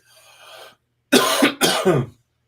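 A faint breathy sound, then two sharp, harsh coughs in quick succession, close and fairly loud.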